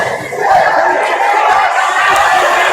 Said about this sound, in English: the big partisan Beavercreek crowd here has their first opportunity to cut loose